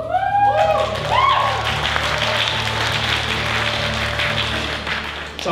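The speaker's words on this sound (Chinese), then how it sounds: "掌声比较小声的原因是因为今天有一半的人都在后面" A church congregation applauds during a Sunday service, a fairly soft, even patter of many hands that follows a few spoken words and fades slightly toward the end.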